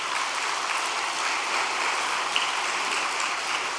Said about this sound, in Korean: 우리 두 분께 박수 한 번만 보내주시기 바랍니다